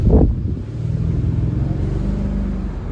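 A 2007 Mercedes CLK 550 convertible's V8 exhaust rumbles steadily from inside the car, a low smooth drone with a brief louder burst at the start, no talking.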